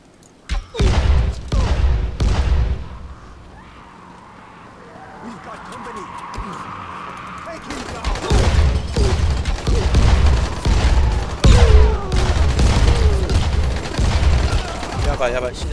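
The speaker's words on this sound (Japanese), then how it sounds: "もうね、爆発を使っちゃおう。" Explosions in the zombie game Dying Light erupt as a run of heavy booms and crackling bursts, loud and repeated, with a quieter lull in the middle before the blasts return. A voice talks over the game sound.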